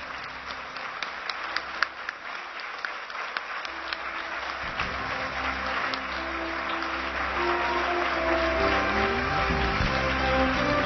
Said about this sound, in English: would you please uh, stand up and give a round of applause